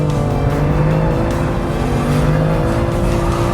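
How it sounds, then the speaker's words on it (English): A modified BMW E46 M3 or factory BMW M2 drifts on a race track, its engine droning steadily and loud with a sustained roar and rising whine throughout, a rough tire-scrubbing edge under the engine note. "This car just loves drifting."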